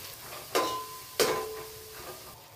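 Two sharp scrapes of a spoon against the pan stand out over a quiet sizzle as ginger paste and green chillies are stirred and fried.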